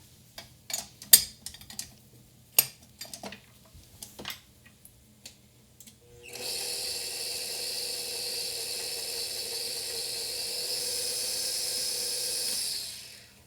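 Flour, baking powder, baking soda and kosher salt being stirred together in a bowl make scattered light clicks and taps for several seconds, followed by a steady hiss. No one talks.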